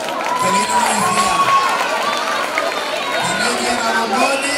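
A school audience at a secondary-school talent show cheers and claps for a prize winner: a loud, continuous crowd roar with shouting children's voices and chatter over scattered applause.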